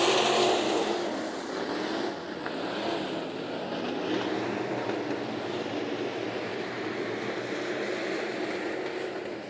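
Sport mod race cars roar together around the Bakersfield Speedway dirt oval during a heat race, a steady, dense engine drone from a pack of cars that holds loud and continuous throughout.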